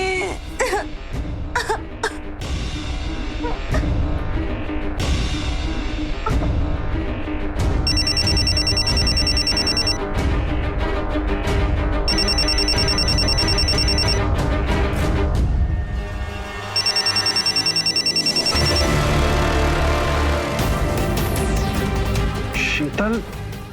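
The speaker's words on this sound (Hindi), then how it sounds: "फोन उठाओ।" A telephone rings in a tense household drama, its repeated electronic ring tones sounding in bursts over a continuous dense background of music and voices.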